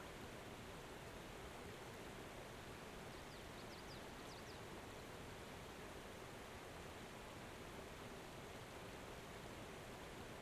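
Waterfall in Ark: Survival Evolved on the Ragnarok map, a steady broadband rush of falling water, constant and fairly faint, with no voices over it.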